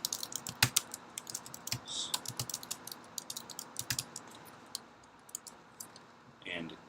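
Keys clatter on a computer keyboard as a task name is typed, a close run of uneven clicks and taps with brief pauses, and a voice speaks over part of it.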